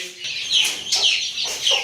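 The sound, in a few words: quails clucking in their cage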